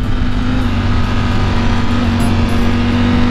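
A truck rumbles close by on the road in a loud, steady engine drone with a deep low hum that holds throughout, and no one speaks.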